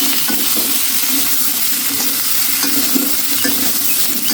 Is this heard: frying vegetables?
yes